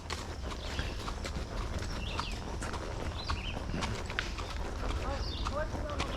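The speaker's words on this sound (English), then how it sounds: "Horses on the left." Horses clip-clop along at a walking pace, hooves thudding irregularly amid steady outdoor background noise and faint birdsong.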